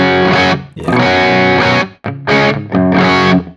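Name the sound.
electric guitar through Nano Cortex with changed cab, distorted tone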